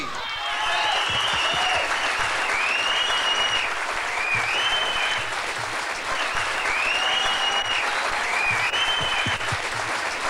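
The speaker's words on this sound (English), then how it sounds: "How about another round of applause for all of our dancers this evening?" Sustained applause from a large audience, dense and even for the whole stretch, with a few whistles rising above the clapping.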